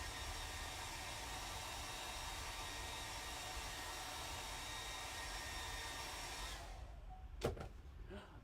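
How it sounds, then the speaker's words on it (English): A hairdryer runs steadily at close range, blowing to dry paint on a Star Wars Legion Yoda miniature, a constant broadband whoosh that cuts off near the end, followed by a couple of faint clicks. "you're gonna hear the hairdryer here in a second"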